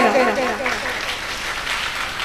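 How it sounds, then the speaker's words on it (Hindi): Audience applause at a Hindi religious discourse by a guru, broad steady clapping starting under a speaking voice that fades out, then continuing alone. "भाई के लिए आप ताली बजाओ"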